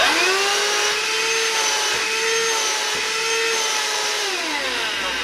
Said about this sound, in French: ça va devenir un aspirateur qui fonctionne à nouveau